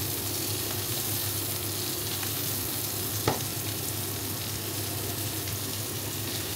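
Steak sizzling loudly and steadily in a hot pan, a dense continuous frying hiss with one brief knock partway through.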